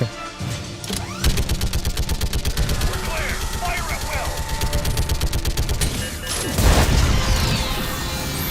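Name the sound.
machine gun turret firing in Mass Effect 3 video game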